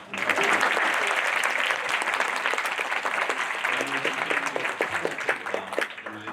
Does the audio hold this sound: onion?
no